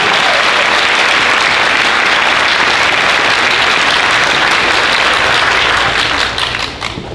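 Loud, sustained audience applause fills a school gym or auditorium after solo and ensemble performances at a seventh-grade spring concert, a dense unbroken wash of many hands that thins slightly near the end.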